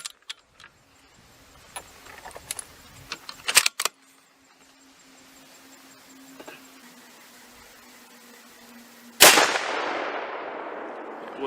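A Weatherby .338 RPM rifle fires one loud, sharp shot near the end, with a ringing decay, after a quiet stretch of small clicks and handling noises.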